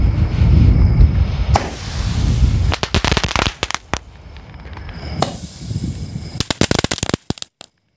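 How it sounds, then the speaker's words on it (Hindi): Supreme multi-crackling shot firework fired during Diwali cracker testing, launching shells that burst overhead: a low rumbling launch, then dense bursts of sharp crackling pops in two main waves, loud and close with no talk. "सो गाइस ये था सुप्रीम का मल्टी क्रैकलिंग शोट कुछ तरह का डिस्प्ले रहा कुछ तरह के इसके अंदर शोट निकले जो ऊपर जाकर फटते हैं"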